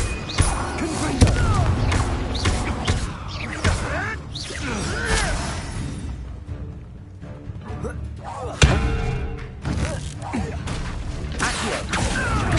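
Confringo blasting spells from Hogwarts Legacy crash and boom in a dense run of impacts and whooshes. Quieter stretches sit between the heavy hits, and a voice speaks over part of it.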